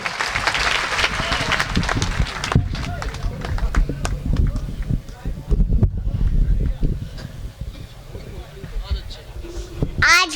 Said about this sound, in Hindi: तो एक बार आप आशीर्वाद लीजिए तालियों से।